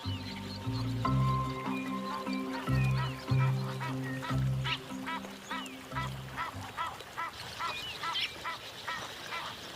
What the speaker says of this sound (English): A pair of Egyptian geese forages on aquatic plants growing in a stream.